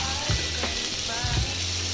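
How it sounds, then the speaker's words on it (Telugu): Chopped onions frying in oil with curry leaves, giving a brief, dense sizzle with a couple of soft stirring bumps, close by and without talk. "ఇందులోకి చిన్నగా కట్ చేసిన ఉల్లిపాయ ముక్కలు వేసుకుని గోల్డ్ కలర్ వచ్చే వరకు వేయించుదాం."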